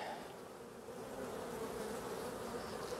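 Honey bees buzzing steadily at an opened beehive during an end-of-season hive inspection, a dense continuous drone close by with no talking.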